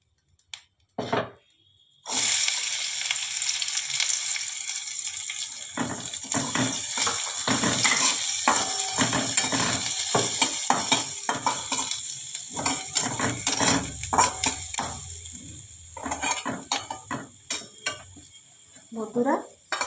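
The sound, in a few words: onion frying in oil in a pan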